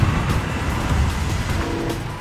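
A Ford Focus RS pulls hard under acceleration, its engine note loud and close with a steady, gravelly roar that holds for a couple of seconds.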